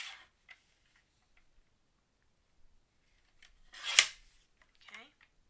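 Cutting a yellow card mat for card making: a few soft, scattered paper-cutting snips and rustles, mostly quiet, with one sharper crisp cut near the end amid brief faint voice.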